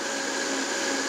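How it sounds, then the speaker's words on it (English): A blender runs steadily at full speed on a batch of chilies for birria-style beef tacos, a loud continuous whirring roar with no talk. "You're gonna start your blender on low and then you're gonna build up the speed."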